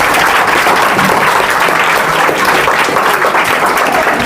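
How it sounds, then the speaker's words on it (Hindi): An audience at a coaching class event gives loud, dense applause, many hands clapping continuously and close, filling the whole stretch without pause. "के लिए एक जोरदार तालियां बजाइए आप लोग।"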